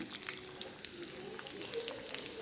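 Dried red chillies, curry leaves and shallots frying in hot oil for a tempering, giving a steady crackling sizzle with scattered small pops close by.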